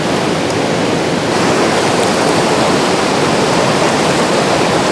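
Dense, roaring rush of water at Hundru Waterfall near Ranchi, a constant loud broadband wash with no breaks, close and overwhelming, no voices audible above it.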